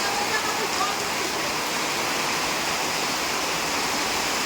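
Heavy rain drums steadily on a tin roof over a courtyard, a dense unbroken wash of noise that stays close and even throughout.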